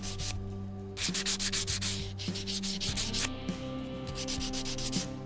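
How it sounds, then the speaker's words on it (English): The tops of guitar frets on a Telecaster-style neck are sanded by hand in a series of short rhythmic rubbing strokes, close and soft, with a faint hum in the background and no talking. "Sand down until the scratches are gone, but don't go any further."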